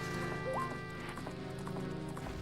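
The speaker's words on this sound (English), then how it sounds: "Just the indestructible horse." Horse galloping in the video game Zelda: Majora's Mask, a steady rhythmic clip-clop of hooves over game music, with a short rising tone partway through.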